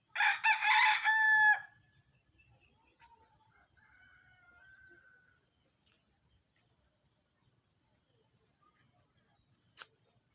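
Young stag roosters with green legs crow loudly up close in one full cock-a-doodle-doo, followed by quieter scattered chirps and clucks from other birds and a sharp short call near the end.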